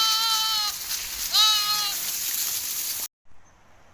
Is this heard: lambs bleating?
yes